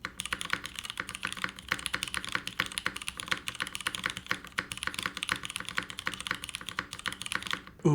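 Rapid, steady typing on a mechanical keyboard fitted with Cream Soda switches, close and clear, with dense clacky keystrokes running continuously and no talking.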